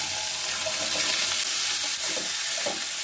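Shrimp and chopped eggplant frying in a pan while being stirred, a dense continuous sizzle with scraping stir strokes and soft bubbling underneath, close and fairly loud throughout.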